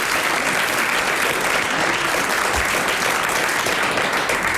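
Studio audience on the French radio-TV quiz show Les Grosses Têtes breaks into steady, dense applause that fills the whole stretch at an even, loud level, with no voices over it.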